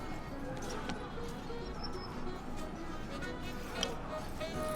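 Horse hooves clip-clop steadily beneath game action in the video game Legends of the Round Table, a dense continuous mix with a voice talking over it and a brief sharper accent near the end.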